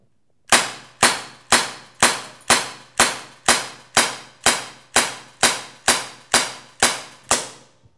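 A Glock 19 CO2 airgun fires about fourteen sharp, evenly spaced shots at a shooting range, each a loud crisp crack with a short decay, steady rhythm and no talking.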